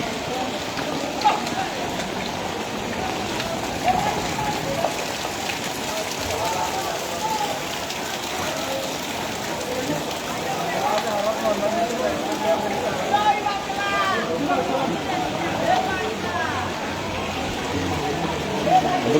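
Dense, steady rain pattering on surfaces in Cox's Bazar, with a person talking over the downpour throughout.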